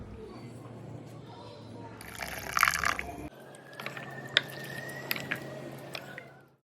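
Water poured into thick fermented ragi appam batter, a short splashy pour followed by soft wet mixing squishes and drips, fairly quiet and close.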